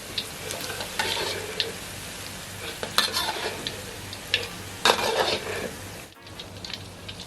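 A crab omelette fries slowly over low to medium heat, giving a continuous soft sizzle with occasional louder spatula scrapes and taps on the pan, close by. It drops briefly near the end before the sizzle resumes.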